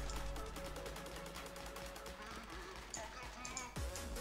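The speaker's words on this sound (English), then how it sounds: "he's shooting at me" Enemy gunfire in Warfriends comes as a rapid, evenly spaced string of shots, fairly faint and distant, running over a steady background tone before breaking off near the end.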